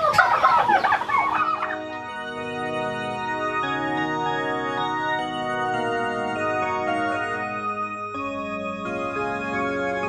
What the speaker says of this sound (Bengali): আমার কিছু ব্রাহ্মা মুরগি আছে এবং সিল্কি মুরগি আছে